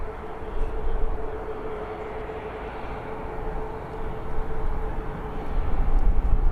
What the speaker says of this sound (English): And then we've got a double Ryanair departure